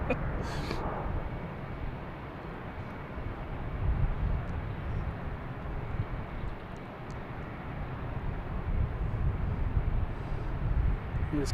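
A KLM airliner from Amsterdam at Boston Logan Airport, a steady, moderately distant jet roar swelling and easing gently, heard alone.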